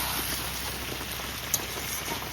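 Rain falls steadily on a rainy day, a soft, even patter with one brief drip-like tick partway through and no voices.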